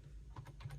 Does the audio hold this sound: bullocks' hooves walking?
no